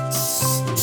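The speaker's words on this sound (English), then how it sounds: "And we're gonna give one more spray." A cooking oil spray mists over seasoned eggplant in two quick, close hissing bursts, with a faint hum underneath.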